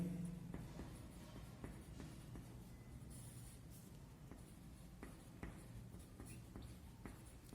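Pen scratching on paper while a maths solution for a class 6 area problem is written out, a soft continuous scribble with small strokes and taps, close and quiet over faint room noise.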